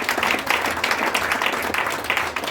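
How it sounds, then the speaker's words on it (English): A church congregation claps hands for Jesus in steady, dense applause, loud and sustained throughout, with no talk over it. "Let us clap our hands for Jesus."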